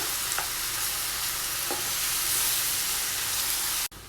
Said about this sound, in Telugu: గార్లిక్ పేస్ట్ అంతా కూడా పచ్చివాసన పోయేంత వరకు ఫ్రై చేసుకోవాలండి